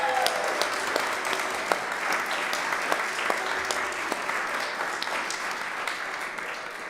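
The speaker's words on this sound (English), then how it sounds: "Let's give them another round of applause, please." Audience at a choir concert applauding the soloists, a steady wash of many hands clapping with sharper individual claps standing out, sustained throughout.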